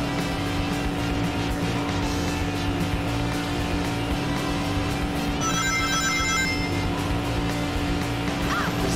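A car driving in the Sonic Adventure 2 video game, a steady engine drone with tire noise under game music and chiming effects, continuous and fairly loud throughout.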